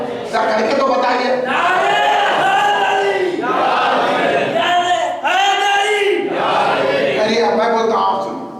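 A mosque congregation chants the slogan Ya Hussain in loud, unison shouts, with sustained bursts of massed voices rising and falling in a repeated call-and-response rhythm.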